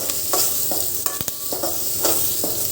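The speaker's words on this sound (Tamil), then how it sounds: "கருவேப்பிலை சேர்த்து கொஞ்சம் கலர் மாறி வர வரலும் நல்லா வதக்கி எடுத்துக்கலாம்" Steady sizzle of curry leaves frying in hot oil, with a few scraping stirs of a spoon against the pan, close up.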